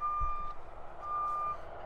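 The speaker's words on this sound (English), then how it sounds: "I don't know why trucks have those beep beeps." Truck reversing alarm beeping twice, two steady half-second tones with a pause between them, fairly faint over a low rumbling background.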